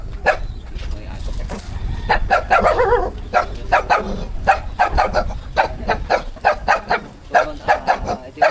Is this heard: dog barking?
yes